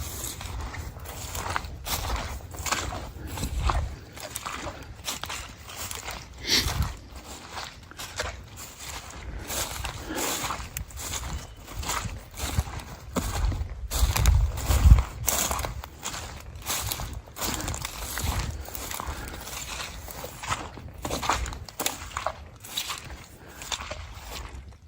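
Footsteps crunch through leaf litter and undergrowth in the woods as a lone person walks, a steady, fairly close rustling tread with uneven loudness.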